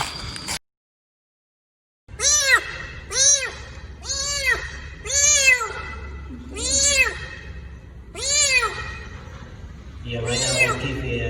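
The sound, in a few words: scared rescued kitten meowing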